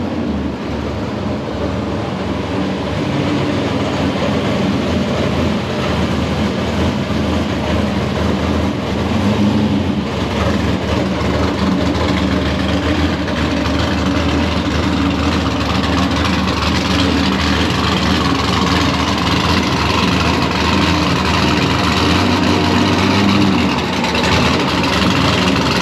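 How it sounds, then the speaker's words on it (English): A car nicknamed Lucy, strapped down on a dyno, runs with a loud, constant engine drone and deep low rumble that holds steady throughout with no voices. "then we'll do some wide open throttle pulls, see if we can find us some more horsepower."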